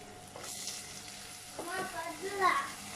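Onion and dried fish fry in oil with tomato for a tamarind bean curry, giving a soft, steady sizzle close by, with stirring and a few clinks of a spoon against the pan toward the end.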